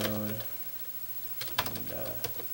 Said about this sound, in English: I'm going to go ahead and type in this one.